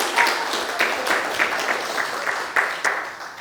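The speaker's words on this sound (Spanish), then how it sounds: "Pueden aplaudir" Applause from a church congregation in Tarancón, a steady wash of clapping hands with small surges, moderately loud and without talk.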